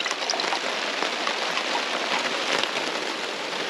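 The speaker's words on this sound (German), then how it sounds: "ist es gut, dass es regnet." Rain falling outdoors in the wild, a steady, even hiss of drops pattering on surfaces close by, unbroken and alone for a few seconds.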